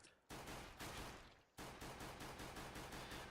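Rapid gunfire bursts in a video game, two long dense volleys of closely spaced shots, loud and near, separated by a brief gap.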